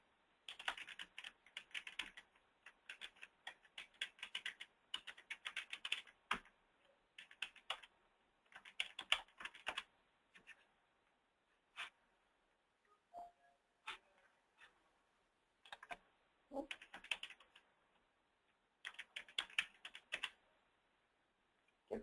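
Fingers tap keys on a computer keyboard to enter a login password, coming in quick bursts of clicking separated by short pauses, close and fairly quiet.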